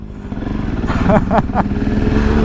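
A Husqvarna 701 motorcycle pulls away hard in a street race against a small 250 Rebel, its engine note rising in a couple of loud revving surges over steady rumbling drone.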